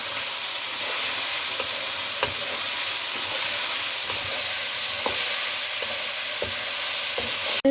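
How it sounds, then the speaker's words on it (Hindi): Okra stirred through hot oil in a pan for bhindi fry, a loud continuous sizzle and hiss with regular scrapes and taps from the spoon, close by with no talking. "भिंडी को भी इसमें मिक्स कर लें।"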